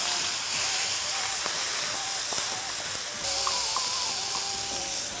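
Chopped onion pieces hiss and sizzle steadily in a hot pan in a hotel kitchen, a continuous bright frying noise under quiet background voices.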